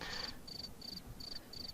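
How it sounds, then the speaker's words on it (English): A cricket chirps in short, evenly spaced bursts, five or so trills in under two seconds, faint and thin over a quiet background. "Crickets."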